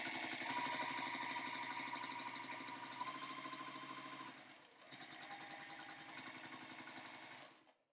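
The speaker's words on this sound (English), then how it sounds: "keep sewing them just like that. Chain piece all 36 of these together." Sewing machine chain piecing quilt fabric, running steadily with a fast rhythmic stitching chatter, a brief slowdown about midway, then resuming until it stops at the end.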